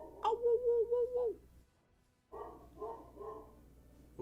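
A dog barks close by in a home during a Pokemon Unite live stream, a short tonal yelping call followed after a pause by a few softer, muffled barks.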